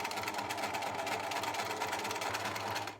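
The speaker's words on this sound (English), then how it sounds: "put the straight stitch in between these pleats to secure and hold down the fabric" A sewing machine runs a continuous straight stitch between fabric pleats, a steady mechanical whirr with fast needle chatter heard close and unbroken for the whole stretch.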